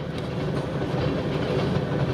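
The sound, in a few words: train on a single track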